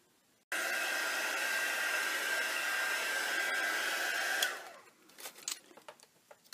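A hair dryer drying paint on a mixed media art journal page runs as a steady, loud, close whir for about four seconds, then shuts off, leaving faint handling clicks and rustles.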